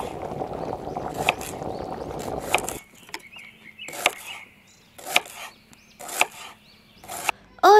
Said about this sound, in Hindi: निहारिका प्याज काटने लगती है